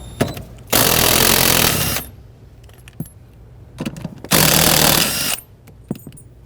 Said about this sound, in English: Using a 14mm socket, we're going to go ahead and remove these bolts.